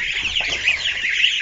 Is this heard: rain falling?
no